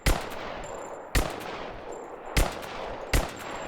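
Four sharp gunshots ring out in Rise of the Tomb Raider, spaced roughly a second apart, each a loud broadband crack with a short decaying tail, over quiet game ambience with no talking.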